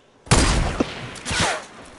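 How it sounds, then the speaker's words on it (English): Enemy gunfire in Fortnite on PS4, a sudden loud fusillade of rapid shots breaking out after near silence, with a second burst following a moment later, no talk. "Who's the guy shooting me?"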